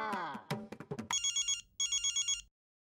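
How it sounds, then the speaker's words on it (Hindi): A telephone rings on the Hindi TV sitcom Taarak Mehta Ka Ooltah Chashmah. A short run of musical tones is followed by two bursts of rapid electronic trilling rings with a brief pause between them, then silence. "हाँ, बागा को फोन लगाता हूँ"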